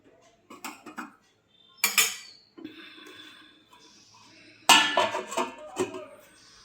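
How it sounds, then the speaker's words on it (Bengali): A metal lid clatters onto a cooking pot holding a thin potato, cauliflower and pea curry, with a few sharp clinks and scrapes in short bursts at close range. "এখন আমরা পাঁচ থেকে সাত মিনিটের জন্য ঢাকা দিয়ে রেখে দেবো"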